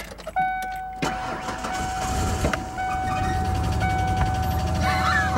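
A Cummins truck engine idles and runs unevenly with a misfire after a couple of starting clunks, a loud steady rumble with a sustained tonal whine, close by.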